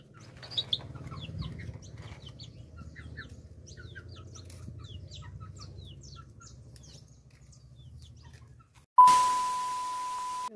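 Chickens cluck and chirp steadily at close range in a backyard coop setting, a busy layered chatter with no talk, ending in a sudden loud clank and ringing tone.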